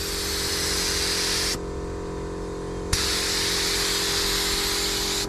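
A spray gun lays the final texture coat of Raptor coating onto a 1988 Toyota Luxy, a loud continuous hiss that cuts off for about a second and a half, then resumes after a sharp click.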